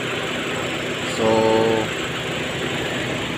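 An overhauled Nissan X-Trail engine, with a resurfaced cylinder block, new piston rings and new bearings, idles smoothly and quietly at a steady hum nearby, while someone briefly says a word over it.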